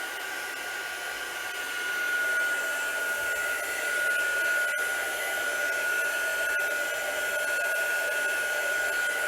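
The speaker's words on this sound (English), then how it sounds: "A hairdryer is much quicker because it's hotter and it blows a bit more violently." A hair dryer blows continuously on tea- or coffee-dyed paper, with a steady high-pitched whine and airy rush, close and unbroken throughout.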